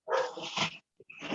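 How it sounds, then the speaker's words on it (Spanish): A small dog barks in two quick bursts, close by and fairly loud, with a short yip after a brief pause and no talking. "el perrito empezó a ladrar"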